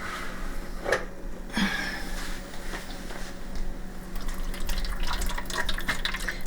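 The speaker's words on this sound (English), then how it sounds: "I've got a pot of boiling water that I just boiled, and I'm putting it 3/4 of the way up the pan" Boiling water is poured from a pot into a baking pan around ramekins of egg custard, a soft continuous trickle and splash with a few clinks, growing fuller toward the end.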